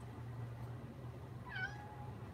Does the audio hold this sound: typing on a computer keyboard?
no